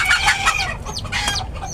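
Chickens cluck loudly and close near newly hatched chicks, a few quick bursts of clucking with thin high peeping between them.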